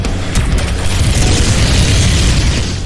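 A plasma rifle's alternate fire in the indie shooter game Prodeus lets off a loud, dense explosion, a sustained booming burst with crackling texture filling the whole moment, and no voices.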